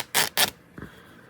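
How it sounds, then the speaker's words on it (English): Tim Holtz fabric ripped apart by hand, heard as two quick, close, raspy tearing bursts one right after the other, followed by a quiet stretch with no talking. "these Tim Holtz fabrics, they don't want to tear sometimes."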